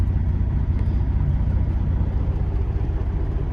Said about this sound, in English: We're just letting the truck warm up a little bit here